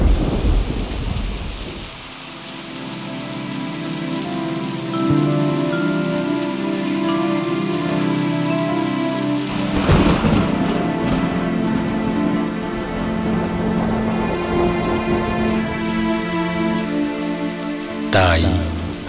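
Autumn rain patters steadily on surfaces nearby while a rolling thunderclap swells in the middle and fades, ending with another abrupt crash; soft music or tones run underneath.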